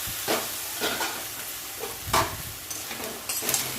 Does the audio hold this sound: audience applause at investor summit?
no